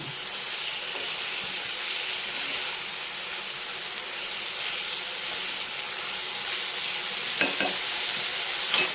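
Boiled cowpeas and onion frying together in a pan give a steady, close sizzling hiss throughout, with a couple of faint stirring clicks near the end.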